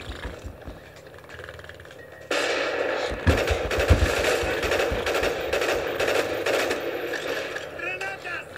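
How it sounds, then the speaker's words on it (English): Gunfire in Call of Duty Black Ops, a sudden loud burst of rapid shots with clattering mechanical game effects. It stays dense and close until the end after a quieter opening. "My favorite gun because it like kills them in one shot."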